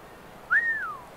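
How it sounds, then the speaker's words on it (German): A single rising-then-falling human whistle used to lure a guard in Assassin's Creed Rogue, clear and close, about half a second long over quiet game ambience. "Du hast das Pfeifen gehört, richtig?"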